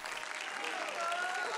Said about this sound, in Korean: 화려한 품새 동작에 관객들의 환성이 이어집니다.